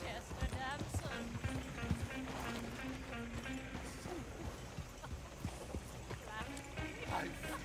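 Horse-drawn coach in Red Dead Redemption 2, with steady clip-clop of hooves and rolling wheels running throughout beneath continuous talk from several voices.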